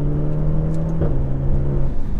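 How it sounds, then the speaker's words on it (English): A Maserati Grecale's engine drones steadily from inside the cabin, and a brief exhaust crack comes on a gear upshift about halfway through before the note settles lower, loud and close. "now on the up change there was just a little bit of a crack, engineered, but it just makes it sound like a really sporty car"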